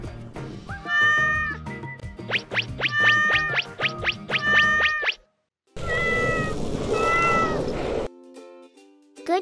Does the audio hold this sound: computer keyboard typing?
no